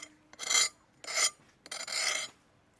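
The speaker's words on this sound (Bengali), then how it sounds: "এই দিকটা বটি দিয়ে একটু ঘষে নেবেন" The edge of an oyster shell is scraped against a boti blade in three separate rasping strokes, each about half a second, close and crisp with quiet gaps between and no talking.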